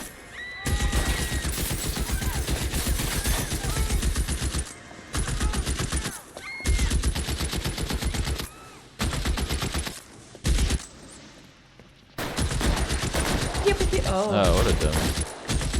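An enemy fires in repeated, rapid gunfire bursts in the 1940s Hollywood crime game L.A. Noire, and short quiet gaps break up the volleys. Someone talks briefly over the shooting.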